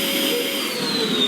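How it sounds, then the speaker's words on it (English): A household vacuum cleaner runs steadily and loudly up close, a continuous whining drone with a high tonal whine and no pauses. "I don't know how a vacuum cleaner works, but I know it's a vacuum."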